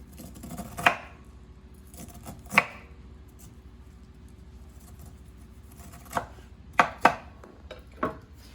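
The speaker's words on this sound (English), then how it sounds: "So I have chopped 4 ears of corn, a whole onion" A knife chops cooked corn and onion on a cutting board: about six sharp, separate chops spaced irregularly over a quiet background, close and crisp, with no talking.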